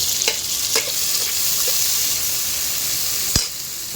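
Chopped tomatoes hitting a hot pan for a thin chicken curry, a loud bright sizzle that holds steady with a few sharp spattering pops, close and with no talk.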